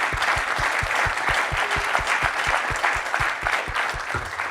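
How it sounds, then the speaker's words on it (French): A conference audience at an ESG 2023 event applauds a roundtable panel, with steady, rhythmic clapping that fills the room at close range and carries on without pause. "On peut vous applaudir pour cette première table ronde."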